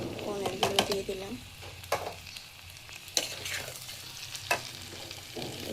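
Paneer, peas and potato pieces fry in a pan, a steady sizzle under repeated scraping stir strokes that come in short bursts, close and fairly loud.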